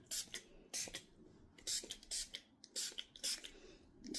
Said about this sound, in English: get away from her body about that far, spray it